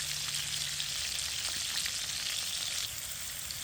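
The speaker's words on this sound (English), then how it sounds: "so we got a good nice sear on these things" Rolled beef braciole searing in a hot pan, a dense, steady hiss of sizzling fat held close and even throughout, with no voices over it.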